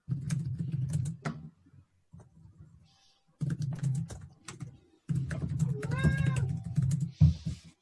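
A pet cat meows in short, clear calls near the end, over a low hum and bursts of keyboard typing and knocking sounds close by.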